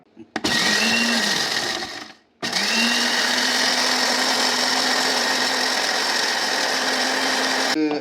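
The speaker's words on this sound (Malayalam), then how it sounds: "ഈ സാധനങ്ങൾ ഇതിനെല്ലാത്തിനും നമുക്ക് മിക്സിയിലിട്ട് അടിക്കാം." An electric mixer grinder grinding spices whirs loudly, stops briefly, then starts again and runs steadily at high speed until cutting off.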